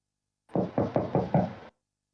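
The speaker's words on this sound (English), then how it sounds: "I heard 4 knocks, or no," Five quick knocks on a door, evenly spaced and fairly close, then silence.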